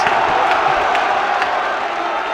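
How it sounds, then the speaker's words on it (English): Football match crowd noise at a non-league game between FC United and Worcester City, a loud continuous roar of the stands that swells during an attack, with scattered shouts and no clear speech. "Crowd noise has gone up another level"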